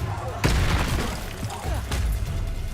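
Expulso spell blast in Hogwarts Legacy fires off as a sharp boom, with a second burst a moment later, amid combat noise and a voice calling out.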